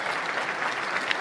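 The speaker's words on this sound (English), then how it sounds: "Give him a round of applause." Audience applause at a tech conference game show, a steady dense wash of clapping from a crowd filling the whole short stretch at an even level, with no talk over it.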